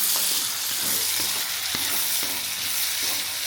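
Pan sautéing for an Easter special Kerala dinner, a steady close frying sizzle with light stirring scrapes and clinks, cooking until golden brown.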